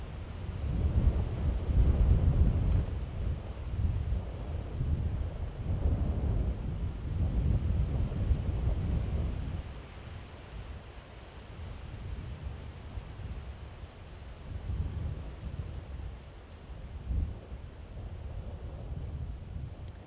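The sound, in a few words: strong wind on an open area during a safari drive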